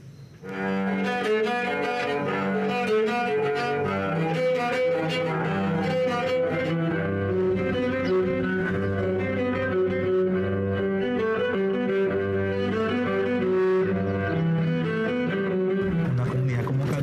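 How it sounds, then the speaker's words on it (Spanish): A homemade cello built from an oil can, scrap wood and tuning pegs cut from an old meat-tenderizing spoon, bowed in a continuous melodic passage with a rough, buzzy tone, loud and steady throughout. "Este chelo está hecho de una lata de aceite, la madera tirada en la basura y las clavijas son de una vieja cuchara para golpear la carne"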